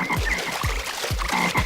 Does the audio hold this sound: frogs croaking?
yes